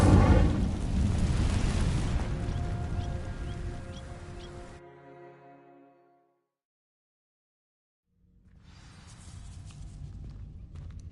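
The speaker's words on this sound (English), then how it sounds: "These dry vines are one spark away from becoming kindling. Incendio!" A fiery burst from the Incendio spell igniting dry vines in Hogwarts Legacy roars loud and close at first, then fades away into near silence before low game ambience returns.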